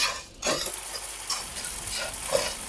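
Whole spices dry roasting in a pan for homemade garam masala, with a soft hiss and rustle from the stirring. It sounds close and fairly quiet, and no one speaks.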